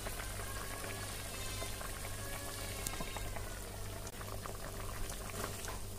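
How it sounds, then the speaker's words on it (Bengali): Raw mustard oil drizzles over a simmering small-fish curry made with mustard paste, fresh coriander and green chillies, giving a steady bubbling, sizzling hiss with faint liquid patters, close and even throughout. "আর অল্প কাঁচা সর্ষের তেল উপর থেকে দিয়ে নামিয়ে নেব।"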